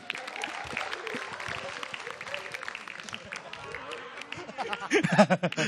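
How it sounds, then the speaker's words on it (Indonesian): Studio audience at a stand-up comedy competition show claps and murmurs in a dense, ongoing wash, with voices and a sung or shouted tone rising near the end. "Sekali lagi tepuk tangan buat Deki Sutrisna."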